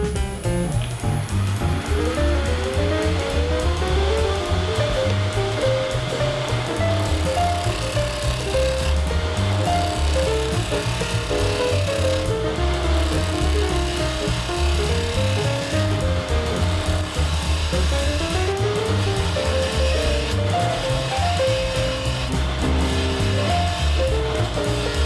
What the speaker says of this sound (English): I'm just going to use a spindle gouge on the wood there